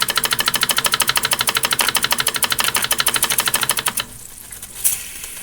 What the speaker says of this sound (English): so that you guys can enjoy the sound of this engine running.